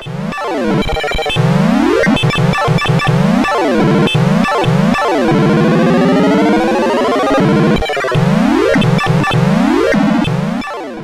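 Loud, busy electronic effects from Galactic Invasion on the Astrocade: rapid sweeping zaps, rising and falling bleeps and chirps piling on top of each other in a noisy barrage.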